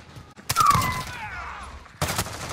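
Pistol fire in the video game Modern Warfare: a sharp burst of shots opens the moment, then quieter ringing, and a second burst of gunfire returns near the end.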